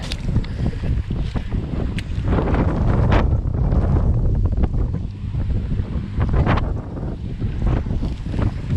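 Strong wind buffets the microphone at the far end of a pond during early spring bank fishing, a steady loud roar with gusty surges and no talking.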